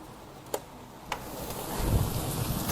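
Outdoor thunderstorm with steady rain hiss, two sharp cracks early on, then a deep rumble of thunder building and rolling toward the end. Everything sounds close and fairly loud.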